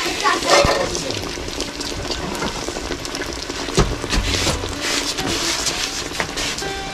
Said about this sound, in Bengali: মাটির চুলাতে তেল পিঠা।